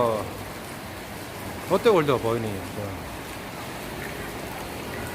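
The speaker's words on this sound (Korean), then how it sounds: "아 비가 오네요." Rain falls steadily in an even hiss throughout, while someone speaks briefly in the middle.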